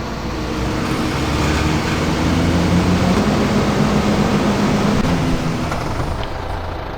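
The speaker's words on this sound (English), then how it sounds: "turn on harvester" A harvester switching on and running in Farming Simulator 2015, a loud steady mechanical engine roar with a constant low rumble and broad hiss, holding evenly throughout.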